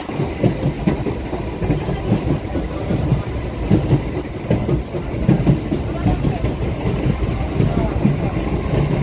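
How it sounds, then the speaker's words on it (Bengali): A Bangaon local train pulls into Gopalnagar station with a steady, loud rumble and rhythmic wheel clatter throughout. Faint voices sit in the background. "গোপালনগরে ঢুকলো ট্রেন।"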